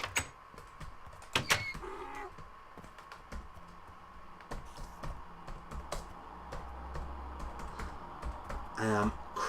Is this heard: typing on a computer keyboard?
yes